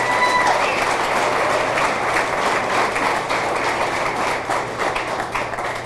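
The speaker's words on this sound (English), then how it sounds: "That deserves a round of applause right there." Sustained applause from a crowd at a high school athletic hall of fame ceremony, honoring a coach's record of championships and wins. Dense, steady clapping fills the hall throughout, with no speech over it.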